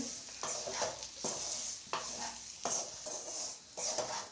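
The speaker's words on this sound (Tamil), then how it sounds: "தீயை நம்ம சிம்மிலே வச்சு நல்லா வதக்கி எடுத்துக்கிடுவோம் பச்சை வாசனை போகிற அளவுக்கு" Chicken curry masala is sautéed over a low flame, a spoon scraping the pan in regular strokes about every half second above a soft, constant sizzle.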